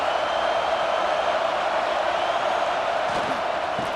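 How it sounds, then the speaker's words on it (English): Steady, dense roar of a large stadium crowd in the College Football 26 video game during an Ohio State vs Washington matchup, loud and continuous, with a faint thud near the end. "this crowd is turning it up a notch"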